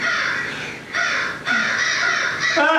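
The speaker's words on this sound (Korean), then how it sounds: "새들 소리가 왜 이렇게 신경 쓰고" Crows cawing continuously in loud, overlapping calls, close by and unbroken across the stretch, with no voices.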